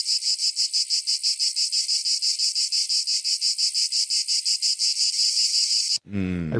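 Cicadas in summer give a loud, steady pulsing buzz that throbs in fast regular beats for about six seconds, then cuts off abruptly as a voice begins.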